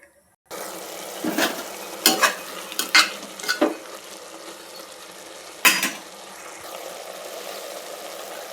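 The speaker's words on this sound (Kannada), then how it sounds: "ಇದು ಒಂದು 5 ಮಿನಿಟ್ಸ್ ಮಸಾಲೆ ಬೇಯಲಿ" Masala sizzles steadily in a pan while a spoon stirs it, with a few sharp scraping clatters of utensil against pan over the continuous frying hiss.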